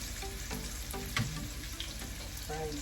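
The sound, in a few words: frying chicken balls and squid balls with tofu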